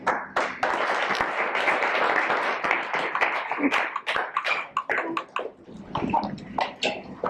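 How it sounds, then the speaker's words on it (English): Sustained applause fills a high school baseball post-season banquet, a dense wash of many hands clapping close by that thins into scattered claps toward the end. "So they earned another round of applause for that."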